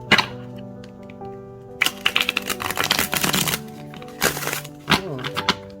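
A thick tarot deck is shuffled by hand, giving several quick bursts of crisp riffling card flutters with short pauses between, close and moderately loud, with no talking.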